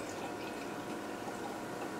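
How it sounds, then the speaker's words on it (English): Black cherry hard kombucha pours into a cup with a steady close splashing fill lasting about two seconds. "Pour as much as you want in your cup."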